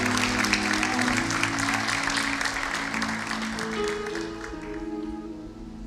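Church congregation applauding, a steady dense wash of clapping that fades slightly toward the end, with sustained organ or keyboard chords underneath.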